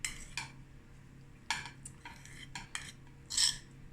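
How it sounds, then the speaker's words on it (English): A utensil scrapes and clinks against a bowl while leftover dough, jam and coconut are stirred together for Hertzoggies, giving close, sporadic taps and rasping strokes over quiet kitchen hum. "I'm going to just mix that together"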